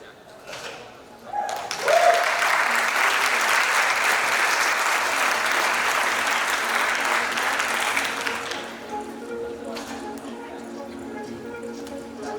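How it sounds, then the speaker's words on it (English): A conference audience applauding a speaker, a dense burst of clapping that starts abruptly, holds steady for about seven seconds and then fades, followed by a voice speaking. "All right, a round of applause for Karun."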